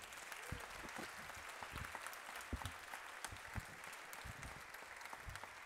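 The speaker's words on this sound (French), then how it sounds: "Merci de l'applaudir également." Audience applause at an event honouring Chief Raoni, a faint, distant patter of many hands clapping steadily throughout.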